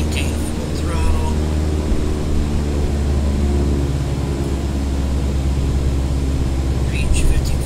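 Aircraft engine held at full throttle during a training flight in Microsoft Flight Simulator 2020: a steady, loud, droning roar with a deep hum that never lets up, with voices talking over it.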